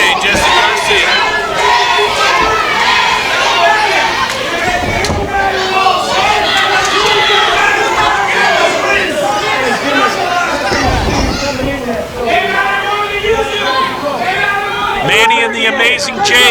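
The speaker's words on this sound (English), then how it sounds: "Crowd firmly behind the amazing J, Jesse Garcia." Wrestling crowd at a PCW Limelight show cheering and chattering loudly throughout, a dense sustained roar with scattered shouts and a couple of heavier thuds from the ring.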